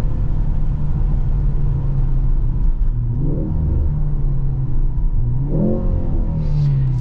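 A 2023 Mercedes-Benz C43 AMG with a 2.0-litre turbocharged engine pulls hard from inside the cabin, a loud steady drone with rising revs in two surges, partly piped through the speakers.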